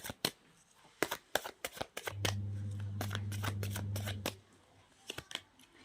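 Tarot cards are shuffled by hand up close in a series of sharp riffling snaps and slaps. A longer continuous riffle sounds in the middle, and quieter flicks follow.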